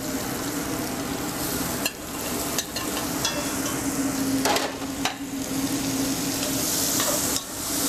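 Aromatics frying in rendered pork fat in a pot, a loud steady sizzle broken by several utensil clacks and scrapes against the metal, with a low hum running underneath and nobody speaking.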